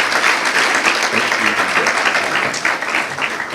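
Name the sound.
audience applause at a luncheon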